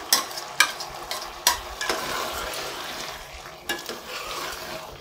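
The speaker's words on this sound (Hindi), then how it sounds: "बस 2 से 3 मिनट तक इसको भूनेंगे।" Soaked split chickpea lentils (chana dal) frying in a hot pan on a gas stove, with a steady sizzle broken by several sharp stirring scrapes and clatters, close and moderately loud.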